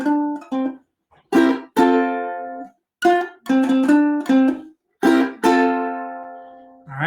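An F-key Shave and a Haircut lick on guitar: short plucked notes and strummed chords in a bouncy rhythm, ending on a longer ringing chord, played close and clear with no talking.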